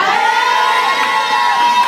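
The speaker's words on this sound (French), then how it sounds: "Je veux un Amen avec des cris de joie" A church congregation erupts in loud, joyful shouts and cheering of Amen, many voices including children's crying out together in a sustained, bright roar that fills the hall.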